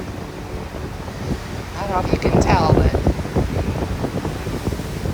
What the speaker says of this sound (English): We got some pretty big waves.